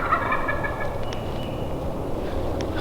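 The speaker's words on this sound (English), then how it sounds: "it wasn't until it got pretty good and light that this guy started gobbling" A wild turkey gobbles repeatedly at a distance at first light in the woods of a public-land hunt, its rattling calls standing out over steady low rumbling background noise.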